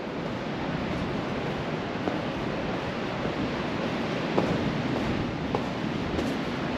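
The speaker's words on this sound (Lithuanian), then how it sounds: "Čia vanduo bėga." Water runs steadily by an ocean shore in Spain, a constant broadband rush with faint wind and no voices, moderately quiet throughout.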